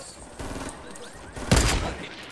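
Gunfire in Fortnite Battle Royale: a short burst of rapid shots, then a louder, sharper volley of cracks, heard close amid background game noise.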